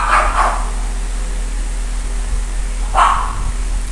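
A dog barks outdoors in two brief bursts, one at the start and one near the end, over a steady hum like air conditioning.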